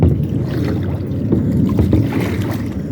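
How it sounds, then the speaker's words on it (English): A boat paddled with one hand on open water near Key West after a hurricane, with steady splashing and water wash close by over a constant wind rush, and no talk. "Trying to paddle with one hand."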